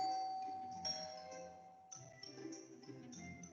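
A doorbell rings softly with a chime tone fading out, followed by a few more quiet chime notes, faint and somewhat distant.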